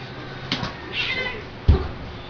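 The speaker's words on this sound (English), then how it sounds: "Cat. Cat." A cat meows a couple of times indoors, brief close calls followed by a louder thump, with quiet room noise around them.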